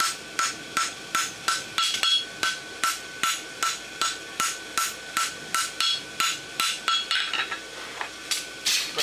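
Hammer blows ring on hot steel at an anvil while forge welding the scarf of a lateral extension bar horseshoe: about twenty sharp metallic strikes in a steady quick rhythm, close and loud, with no talk.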